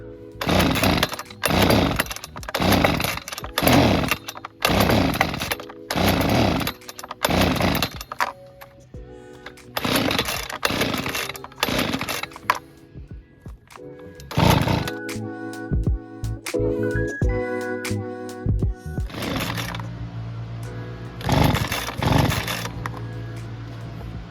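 A Husqvarna 125B leaf blower with a misleading fault, running only on partial choke, revs loudly in repeated bursts that surge and drop back to a rough, uneven idle, close by and with no talk over it.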